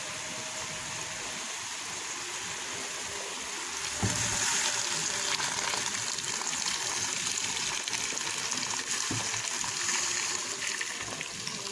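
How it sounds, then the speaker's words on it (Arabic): Hot water poured from a height onto chicken in a cooking pot, a steady, close gushing splash that starts softer and then surges louder and holds continuously to the end. "وهنزل عليها بالميه السخنه"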